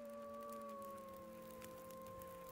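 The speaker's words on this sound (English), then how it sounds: "Like almost metallic howl." A long, steady metallic howl drifts through The Long Dark's night, a faint, sustained tonal wail slowly sliding in pitch, with no talking over it.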